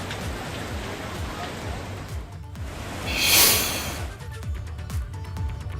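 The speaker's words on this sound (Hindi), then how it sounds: "उत्तराखंड में मानसून की बारिश इस कदर बरसी कि कई शहर बेहाल हो गए" Heavy monsoon rain falls steadily in Uttarakhand, a dense, continuous hiss of drops on surfaces with a brief louder swell of splashing midway, no voices over it.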